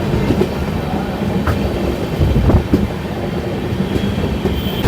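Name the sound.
train approaching from the front, likely Lichchavi Express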